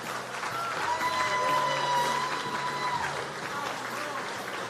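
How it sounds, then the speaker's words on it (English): A crowd at a motorsports hall of fame induction ceremony claps steadily, with some cheering and a sustained musical tone playing underneath. "Put your hands together and give a big round of applause to Ralph Shaheen."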